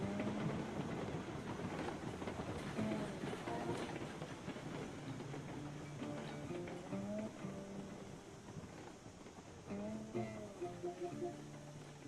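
A train runs in the video game Railroads Online, giving a steady rolling rumble with faint clicking and squeaking wheel noises throughout, fairly quiet and continuous.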